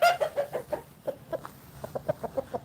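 A hen clucks in a rapid series of short, sharp calls, some ten or more evenly spaced pulses, close and clear, with quiet farmyard background between them.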